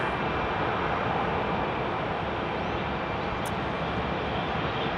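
Alaska Airlines jet in a special livery taxiing at Phoenix Sky Harbor Airport, a steady broad roar of jet engines holding constant throughout with no voices.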